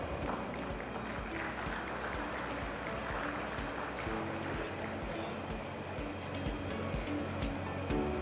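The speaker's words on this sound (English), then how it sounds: "Let's have a big round of applause" Applause at the CII Partnership Summit, a steady wash of many hands clapping in a large hall, sustained and even for several seconds with no talking.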